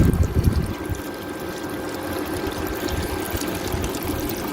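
Old, thin hydraulic oil drains from a Chinese mini excavator in a loud gush at first, then settles into a steady running pour.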